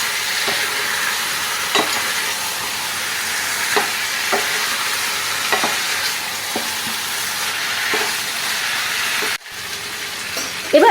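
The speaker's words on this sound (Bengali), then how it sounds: "সেদ্ধ করে রাখা গাঠি কচু আলু আর গাঠি কচু দিয়ে আবার একটুখানি আমি ভালো করে কষাবো" Boiled taro root and potatoes are stir-fried in a pan with a steady close sizzle, and a spatula scrapes and taps at irregular intervals.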